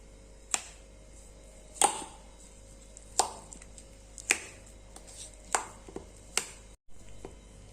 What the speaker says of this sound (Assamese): ভালদৰে আলু পিটিকাখিনি পিটিকি লওঁ